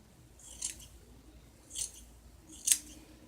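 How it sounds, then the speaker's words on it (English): Scissors snip through bangs hair in three quiet, separate cuts spaced about a second apart, each a short crisp click close by, with no talk and only faint room noise between them. "comb everything out. Excuse me. And cut."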